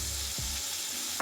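Spices and tomatoes fry with browned onions for a biryani, giving a dense, close sizzle with brief stirring swishes, heard on its own.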